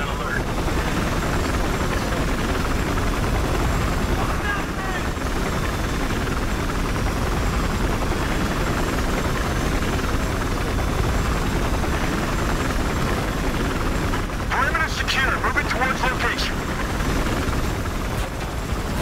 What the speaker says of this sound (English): Oh, yeah, I have a chopper.